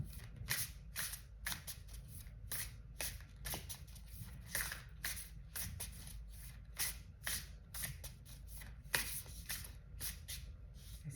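Cards being shuffled over and over, a steady run of crisp riffling bursts with brief pauses between them, close and fairly quiet with no talking.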